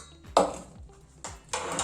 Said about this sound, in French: Tu as juste à prendre ta casserole.